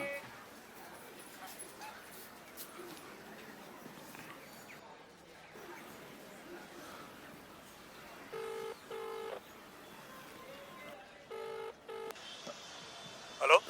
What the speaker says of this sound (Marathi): तुम्ही त्या सूर्यवंशींना फोन करा.